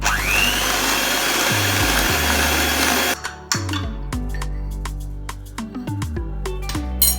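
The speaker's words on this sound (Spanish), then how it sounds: "Batiremos hasta que nos quede este tono blanquecino." Electric hand mixer beating six egg yolks with sugar, a loud continuous whirring motor that steps through changing pitches and surges as the beaters work the bowl, close up and alone without talk.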